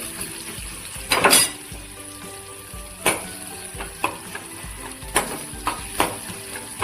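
Chopped onion with curry leaves browning in oil in a pan for a spicy Maharashtrian brinjal curry, with a low steady sizzle broken by several sharp clanks and scrapes of a spoon against the pan.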